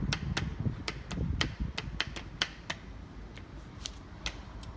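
Irregular sharp mechanical clacks of a typewriter, spaced key strikes over a low background hum, moderately quiet.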